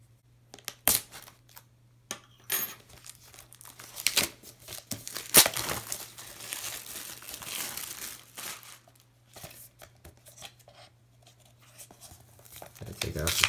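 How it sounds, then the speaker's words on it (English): Sticky protective paper and plastic wrap being peeled and crinkled off a Maze Runner steelbook case, with close, irregular crackling and tearing bursts and short pauses between them, alongside a steady low hum. "Gotta take off the sticky paper and whatnot."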